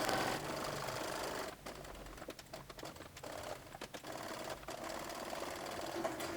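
A sewing machine stitches fabric for hand warmers in rapid, rattling runs, close and fairly quiet, with brief pauses between bursts of stitching.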